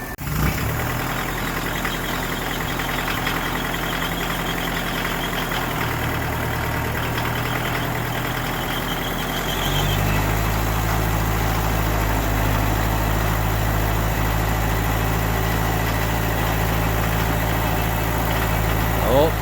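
A Kioti DK45S tractor diesel engine idles steadily after sitting outside for three years, a loud continuous rumble that deepens and grows slightly louder about halfway through as the revs change.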